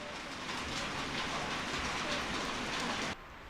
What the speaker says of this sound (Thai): วันนี้ฝนตกอีกแล้ว